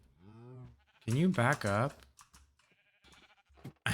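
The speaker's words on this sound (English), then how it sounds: "the sheep are probably going to get their own pen" Minecraft sheep give a few bleats near the start, followed by a person talking loudly and some keyboard typing.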